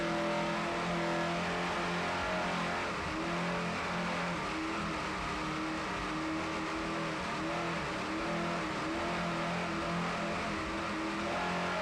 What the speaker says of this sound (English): Those United Racing engines now revving up.